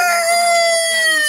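Layer chickens clucking and calling nearby at feeding, with a steady high-pitched tonal hum running underneath throughout.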